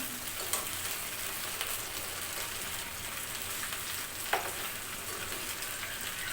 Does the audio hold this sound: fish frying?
yes